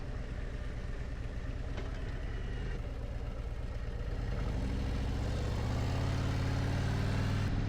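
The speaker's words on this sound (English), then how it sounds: "You get an external audio, hear your engine noise" Motorcycle engine captured by a helmet-mounted action camera while riding, a low, steady engine drone with a rising rumble toward the end, fairly loud and continuous with no talk.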